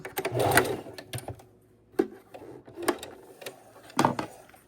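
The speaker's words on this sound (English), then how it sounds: "I'm going to go back and forth over it to sew it together." A sewing machine stitches back and forth over elastic while making a fabric hair scrunchie, with short close bursts of rapid mechanical whirring separated by pauses and clicks.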